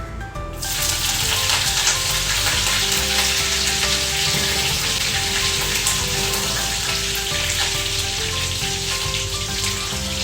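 Green chillies frying in hot oil in a pan, a loud dense crackling sizzle that starts abruptly and holds steady throughout, with no talking.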